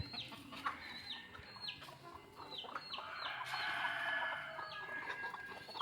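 Several chickens cluck and chatter in the evening as they settle to roost in a tree. Their short, repeated calls overlap at moderate distance over quiet outdoor background.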